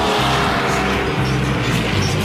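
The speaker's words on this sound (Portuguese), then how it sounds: "Aqui, o ronco dos motores só conta metade da história." Race car engines roaring at a driving school track, a loud continuous dense roar with shifting pitch, close and unbroken for the short stretch.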